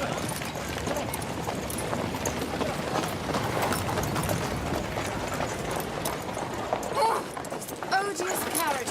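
A horse-drawn carriage rolls past on a street, hooves clip-clopping in a steady rhythm amid busy crowd noise, with people talking over it throughout.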